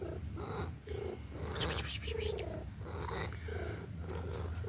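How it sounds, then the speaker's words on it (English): A pet cat purring steadily and close up, a continuous rhythmic rumble with regular breathing cycles, no talk over it. "Hopefully you can hear Nigel purring"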